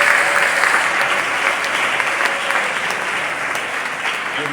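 An audience applauds President Tshisekedi of the DRC at a meeting, a steady, dense wash of clapping from many hands that holds strong from start to finish.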